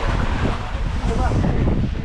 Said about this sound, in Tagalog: film muna natin ang hangin ngayon